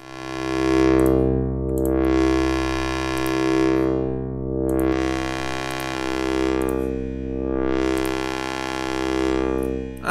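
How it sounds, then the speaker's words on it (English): A sustained, buzzy chord from the Odin 2 software synthesizer, with an LFO slowly sweeping the filter cutoff open and closed about three times, washed in lush reverb. "Let's also add the reverb."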